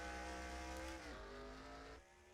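A race car engine in a video game drones steadily at high revs on track, with the pitch dipping and shifting as it drives along, heard alone and fairly faint.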